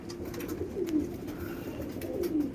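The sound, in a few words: pigeons cooing in a double-deck cage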